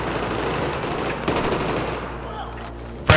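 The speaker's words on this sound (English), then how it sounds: "Who's shooting? Up top? Oh damn it, it's friendly fire." Friendly gunfire rattles in the Battlefield 3 campaign mission Operation Guillotine, a rapid, dense burst of automatic shots that holds steady and close, thins out toward the end, then gives way to a single sharp bang.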